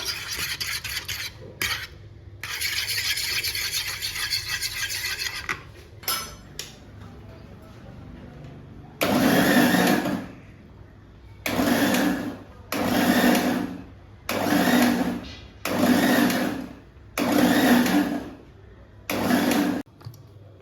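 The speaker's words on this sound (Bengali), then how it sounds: "এটা ভালো করে ফেটিয়ে ফেটিয়ে ফেটিয়ে নেবো আর কি ভালো করে ফেটিয়ে নেবো" A mixture is beaten vigorously in a kitchen bowl, first in longer continuous stretches, then in about seven loud, evenly spaced bursts of scraping and whisking separated by brief pauses.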